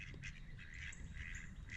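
Ducks quack and honk near a building site where a front porch is being filled and graded, a run of close, fairly loud calls repeating through the whole stretch.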